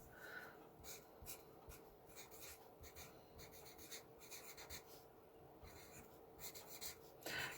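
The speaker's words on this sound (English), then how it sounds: "Let's go ahead and grab a piece of cardstock here. I'm just going to write down our host code." A pen scratches across a sheet of cardstock up close, a run of quiet rhythmic strokes and pauses with soft scraping textures, faint and alone without speech.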